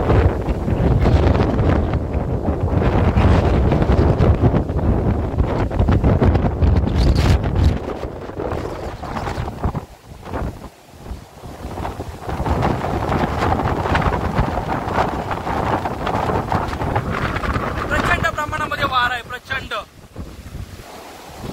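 Strong gusting wind rushes through trees along a hiking trek near Chiplun in Ratnagiri, loud roaring gusts buffeting the microphone, easing briefly midway before surging again.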